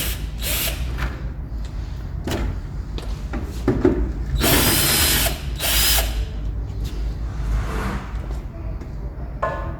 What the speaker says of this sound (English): Next, removing this grill. 2 screws, it looks like 10.